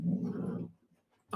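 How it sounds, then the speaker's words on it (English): Pet dogs growl and whimper close by in a rough burst, then go quiet briefly before another short growl. "do you guys hear my dogs?"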